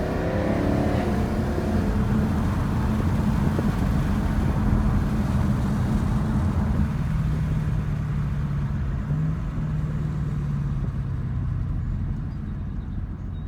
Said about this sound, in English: that Corsa Extreme Catback in quiet mode is extremely quiet